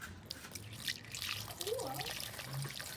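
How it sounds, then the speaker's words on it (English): Very hot water poured from a found pot onto a surface being cleaned outdoors, a soft steady trickle and drip running the whole time, with faint background noise and brief voices nearby. "I am pouring water."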